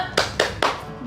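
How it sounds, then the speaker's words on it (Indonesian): A primary school class claps together in a rhythmic spirit-clap routine, three sharp, loud, evenly spaced group claps with no talking over them. "Coba kita tepuk semangat sama-sama ya."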